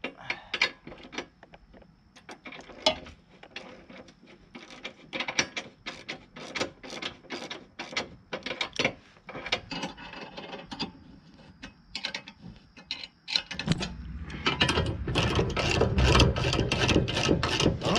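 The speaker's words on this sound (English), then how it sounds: "Now we can tighten up all these bolts down here." A hand ratchet clicks in quick repeated strokes while tightening trailer hitch bolts on a 1998 Jeep Cherokee XJ, close and crisp, pausing between bursts, with a louder, denser rumbling stretch near the end.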